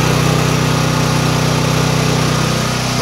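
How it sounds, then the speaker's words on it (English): A gasoline generator powering an 8000W inverter runs close and loud with a steady, unbroken engine drone and hum. "We're running on gasoline and it is plugged into generator right there."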